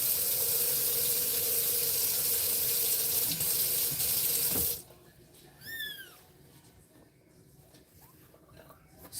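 Tap running warm water, a steady rushing stream close by for several seconds that stops abruptly, followed by faint kitten mewing in a quieter room.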